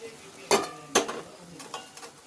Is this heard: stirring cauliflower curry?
yes